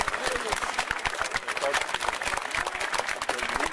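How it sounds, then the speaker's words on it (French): Onlookers at an outdoor Napoleon Route bicentenary celebration applaud a troop of imperial guard cavalry, a scattered, fairly faint patter of clapping with some voices mixed in. "Vous pouvez les applaudir."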